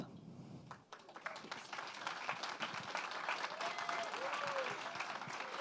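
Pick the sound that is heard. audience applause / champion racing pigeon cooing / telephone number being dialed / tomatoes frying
audience applause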